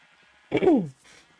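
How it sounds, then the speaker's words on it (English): A single short bleat from a sheep in the video game Minecraft, a clear, close wavering cry lasting about half a second against near silence, followed by a faint tail of softer noise. "The baby sheep that I killed"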